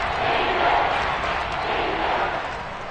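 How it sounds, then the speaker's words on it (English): Crowd cheering swells in an American football video game as a big third down approaches, a dense steady roar of stadium noise that holds loud throughout and eases slightly at the end. "the crowd getting into it as we come up on a big 3rd down"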